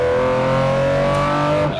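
A supercar's high-revving engine roars steadily at close range on a racetrack, its pitch holding a strained, sustained whine before dropping off abruptly at the end.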